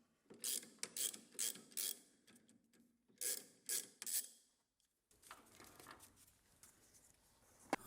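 A die being turned to cut a thread on a metal rod near a shoulder, heard as rhythmic bursts of ratcheting, rasping scrapes in two groups, followed by a quieter continuous grinding rub.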